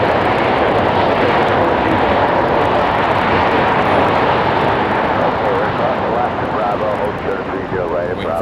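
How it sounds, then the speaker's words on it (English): Jet airliner landing at San Jose International Airport with thrust reversers roaring, a loud, sustained broadband rush that slowly eases toward the end as a faint whine rises. "Waiting for those reversers to calm down."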